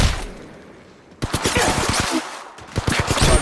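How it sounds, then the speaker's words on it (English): Gunfire in the mobile battle royale game Apex Legends Mobile: rapid bursts of automatic weapon shots crack out in quick succession, loud and close, following a brief stretch of quieter game ambience. "I'm taking fire."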